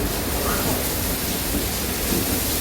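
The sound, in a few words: thunderstorm thunder and rain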